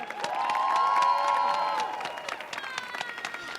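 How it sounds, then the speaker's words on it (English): Audience clapping and cheering at a youth poetry event on a stage, a lively burst of applause with whoops and shouts that swells then thins out over a few seconds. "Start clapping right now for the next poet coming up to the stage"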